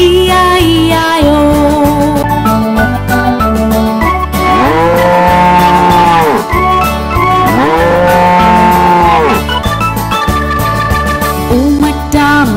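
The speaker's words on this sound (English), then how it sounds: "With a moo moo here and a moo moo there, here a moo, there a moo, everywhere a moo moo." Within a loud children's song about a farm, several bovine moo sounds come through, drawn out and bending in pitch, layered over a steady musical beat with no spoken talk.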